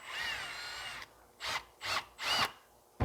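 A power drill bores through material to join two holes while replacing the rear bushing on an Endeavor 1, one long opening burst followed by three short close bursts separated by brief pauses.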